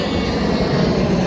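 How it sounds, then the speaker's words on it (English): Steady, loud drone of an airplane passing overhead above a beach at sunset, a continuous engine roar with no voices. "And there's another plane going over again."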